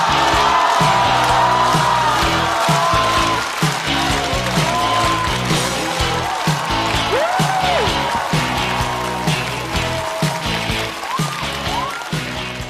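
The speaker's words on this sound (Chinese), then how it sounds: "掌声欢迎 Kid" A stand-up comedy show audience applauds and cheers as comedian Kid walks on stage, a dense, steady wash of clapping with scattered whoops that holds loud for the whole stretch and eases off slightly at the end.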